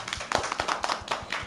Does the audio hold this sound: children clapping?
yes